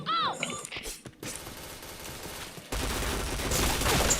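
Rapid gunfire from the online shooter Point Blank, loud, dense bursts of shots packed close together that grow heavier and more continuous toward the end.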